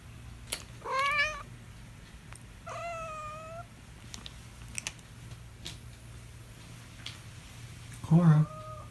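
Pet cats meowing indoors: two clear separate meows near the start and a short, louder third meow near the end, over a low steady hum and scattered small ticks.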